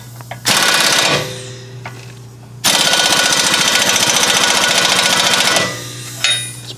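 An impact wrench drives a socket onto a ball joint nut on a 2011 Kia Sorento, giving two loud, close bursts of rapid hammering, a short one and then a longer one, separated by quieter compressor hum.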